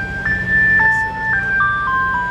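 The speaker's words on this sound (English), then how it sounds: "I never heard so much ice cream truck business in all my life." An ice cream truck's jingle plays as a clear, steady electronic melody of sustained tones, fairly close and loud on a street, with a low hum beneath and no talking.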